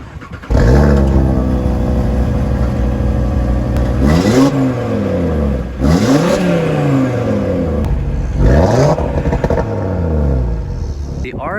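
A 2018 Audi RS3 sport sedan with large oval exhaust tips revs hard several times in a row. Each loud, close blip climbs and falls back, leaving a steady burbling idle between the revs.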